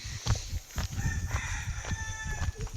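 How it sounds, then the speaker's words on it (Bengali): A rooster crows outdoors in a garden, its loud, drawn-out call rising clearly above a dense background of other farmyard fowl calls and ambient noise. "মোরগ ডাকছে।"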